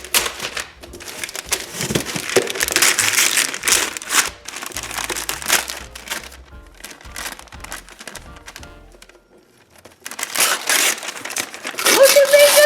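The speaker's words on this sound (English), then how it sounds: "Look at me just ripping this paper." Wrapping paper is ripped and crumpled off a Christmas gift at a holiday gift exchange, loud close tearing and crinkling bursts that continue almost throughout, briefly easing before resuming.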